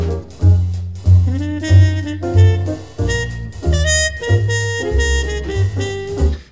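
Harmon-muted trumpet plays a tune with a band, a loud full jazz recording where the trumpet line rides over a steady walking bass and piano.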